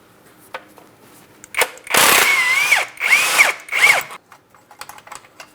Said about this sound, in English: We're using a 15mm for this through bolt.